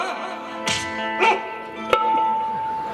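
A voice imitates a barking dog with a few short bark-like bursts over sustained musical tones at a Shakti-Tura stage contest at Shivaji Mandir.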